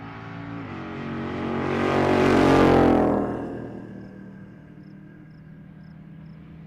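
An early Chevelle launching down a drag strip at Pueblo Motorsports Park, its engine note climbing to a loud, roaring peak as it passes and then fading into a lingering distant drone.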